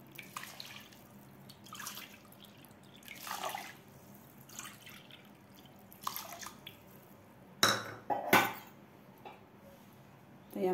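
Water from a bowl is poured into a pressure cooker holding dal and rice for palak dal khichdi. Faint splashes and trickles come in several short bursts, with a louder, sharper splash near the end.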